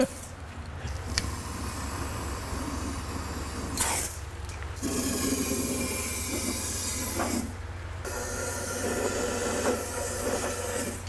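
An aerosol spray can coats the inside of welded, rust-repaired structural metal in long, loud hissing bursts, with brief pauses between sprays over a low background hum; no one speaks.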